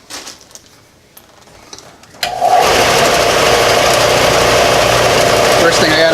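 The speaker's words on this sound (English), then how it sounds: "I have to rough this thing out and see what we come up with after it's roughed out" A power tool grinds into a knife handle from a self-reliance knife kit, roughing it to shape; after a quiet start the loud, steady whirring grind kicks in abruptly and holds close up.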